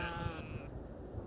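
A single sheep gives a drawn-out, wavering bleat close by, over a steady background hum.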